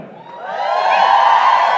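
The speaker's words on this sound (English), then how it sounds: "It's a big Vegas crowd." A large convention crowd at a Las Vegas Supernatural panel cheers and whoops, the roar swelling within half a second and then holding loud and sustained.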